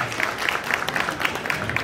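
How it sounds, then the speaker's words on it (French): Brief applause from a small group at a francophone community brunch in Toronto, scattered claps blending into a light patter, fairly close. "On applaudit pour lui."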